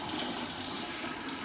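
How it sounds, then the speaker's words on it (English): Water poured from a pot into a kombucha brewing vessel over the SCOBY, a steady, full rushing splash that continues evenly throughout. "I'm going to go and get the pot of water and add it to the vessel."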